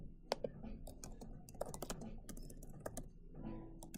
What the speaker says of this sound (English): And so then you're going to begin typing again.